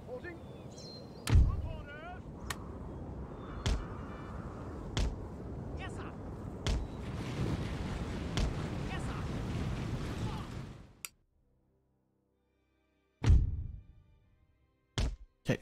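Medium cannon fire in Napoleon: Total War: heavy booming shots ring out one by one at irregular intervals over a rumbling battlefield din, then the noise cuts to near silence before a few more isolated thuds.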